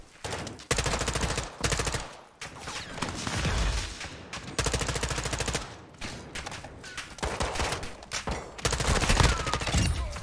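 Sniper rifle fire in Call of Duty DMZ: loud cracking shots and bursts of gunfire come in repeated volleys with brief gaps between them, close and sharp.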